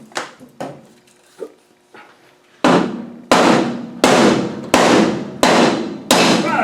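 A rusted Adwest steering box part is hammered loose in a run of hard metallic blows, several lighter taps followed by six loud, evenly spaced bangs up close, each ringing briefly before the next strike.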